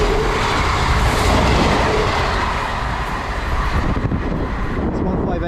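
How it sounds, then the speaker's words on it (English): A passenger train rumbles past close by on the Hope Valley Line, through a station, with a steady clatter of wheels on rails, loud throughout before easing off near the end. "We have got a train passing through."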